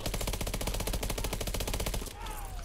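Rapid, evenly spaced gunfire from the Bulldog in the video game Call of Duty Advanced Warfare rattles loudly for about two seconds, then cuts off into quieter game ambience.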